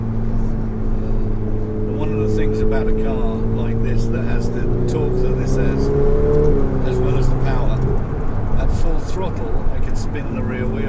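A Ferrari 488 Pista engine revving under acceleration, a loud steady droning roar with rising pitch heard from inside the car, with people talking over it.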